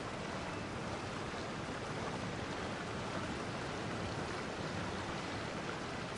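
A waterfall in the Genshin Impact video game rushes in a constant, dense, full-bodied roar with no pauses or other sounds.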